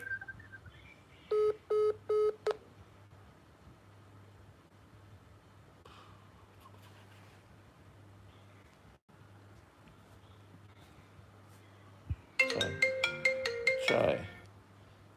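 Incoming phone call with a burst of rapid dialing tones, a long quiet stretch with faint background hum, then a loud electronic ringtone warbling for a couple of seconds.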